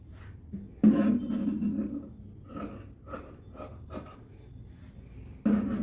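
Scissors cut through blouse fabric for a size 47 blouse, with a few rasping snips and rubbing strokes, close and fairly quiet, bursts spaced irregularly with pauses between.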